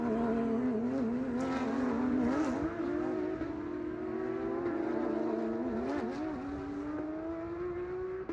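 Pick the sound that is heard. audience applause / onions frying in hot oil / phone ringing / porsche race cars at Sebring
porsche race cars at Sebring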